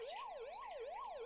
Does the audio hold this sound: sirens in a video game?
yes